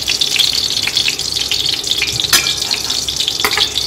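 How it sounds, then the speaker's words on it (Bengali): Sliced onions for beresta frying in oil in a Bengali home kitchen, a loud continuous bubbling sizzle heard close with a couple of sharper crackles and clinks, no voices. "আমার বেরেস্তাটা ভাজা হয়ে গেছে।"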